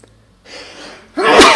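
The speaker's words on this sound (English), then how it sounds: "That sneeze kind of came from nowhere." A single sudden sneeze bursts out close to the microphone after a brief breathy intake, loud and sharp against an otherwise quiet room.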